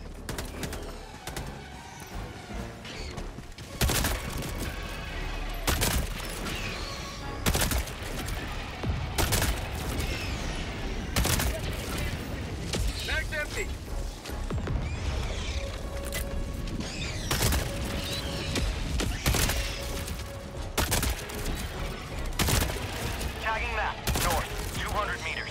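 Gunfire in Helldivers 2 during a bug fight: repeated sharp shots and bursts ring out at close range throughout, with short rapid volleys over a dense, noisy battle din and occasional voices.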